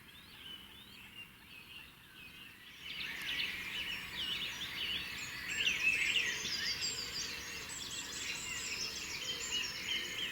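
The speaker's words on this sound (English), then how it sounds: "listening to that dawn chorus when it gets going on the benny like this is just crazy" A dawn chorus builds at a carp fishing lake in spring: faint scattered birdsong at first, then many birds singing at once at a distance, dense and steady, with no talking.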